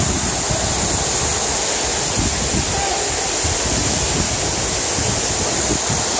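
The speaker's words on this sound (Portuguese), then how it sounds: "Muito linda mesmo essa cachoeira." Serrado waterfall in Porteirinha, Minas Gerais, roars with a steady, dense rush of falling water, loud and continuous with no voices over it.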